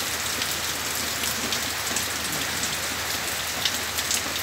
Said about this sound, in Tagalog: Malakas yung ulan, pero maliwanag oh.